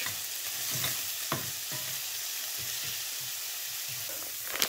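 Prepared vegetables tossed into a hot pan with chicken, a bright steady sizzle broken by regular scraping stirs and spatula knocks, close and continuous without talk.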